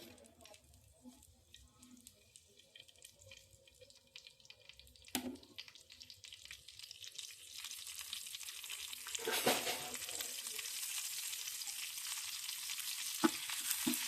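Mustard seeds, turmeric and curry leaves frying in hot oil for homemade vada pav: quiet at first, then a sharp crackle followed by a louder, continuous sizzle with spattering pops.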